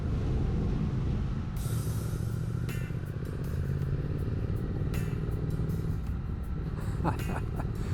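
Triumph Speed Twin 1200 motorcycle riding along a road in the Binn Valley, its engine and exhaust giving a loud, steady, close rumbling drone throughout, with wind noise and no pause.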